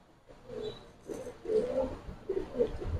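Pigeons, a Giribaz Silver Pankhi breed, coo softly in low, rolling bursts at a pet seller's place. The coos repeat several times at a modest level over faint background noise.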